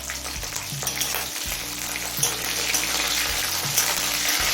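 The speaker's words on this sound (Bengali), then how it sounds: "রসুনটা দিয়ে মিনিট খানে ভেজে নিয়েছি এবার দিচ্ছি কিছুটা পরিমাণ কাঁচা লঙ্কা" Green chillies drop into garlic frying in oil in a pan, giving a steady bright sizzle with a few stirring scrapes and small spatters, close and continuous throughout.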